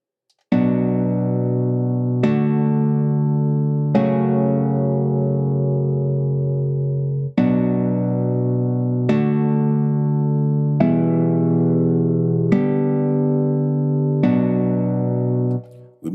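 A MIDI chord progression plays back in Cubase 11 with a sustained synth or keyboard tone. About seven chords sound in turn, each with a sharp attack that slowly decays over roughly two seconds. The chords are loud, clear and have no talk over them.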